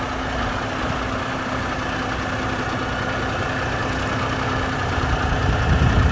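A brand new 2022 Kenworth truck idles with a steady, low diesel rumble and a constant hum, growing slightly louder toward the end.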